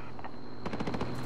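A rapid burst of automatic gunfire in the video game Call of Duty: Modern Warfare, about half a dozen quick shots sounding fairly distant under a steady background of battle noise.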